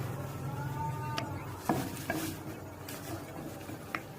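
Ground turmeric, red chilli, coriander and cumin powders being stirred into softened onions in a pan for a Chitol fish kofta curry, with soft scraping and a few sharp utensil taps against the pan over a steady low background.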